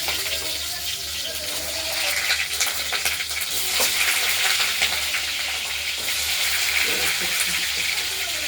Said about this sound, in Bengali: এবার কিন্তু আমরা ভেজে নেব